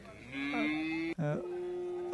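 Cattle at a livestock market where bull calves are sold, giving two long, close, loud moos, the second lower and broken by a brief gap, with faint background noise.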